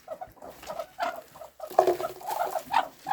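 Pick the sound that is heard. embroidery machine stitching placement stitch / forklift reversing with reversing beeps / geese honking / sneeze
geese honking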